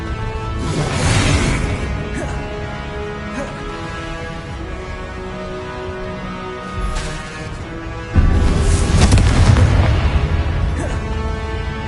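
Confringo fire-spell blasts in Hogwarts Legacy, loud booming explosions with crackling bursts. The largest hits land near the start, around seven seconds, and from about eight seconds onward, over dense battle noise and music.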